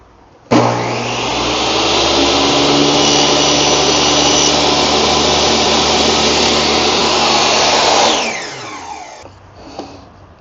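A power saw whines as it cuts through wood for a gift box top, a loud steady roar starting abruptly and running several seconds before spinning down, followed by faint handling noises.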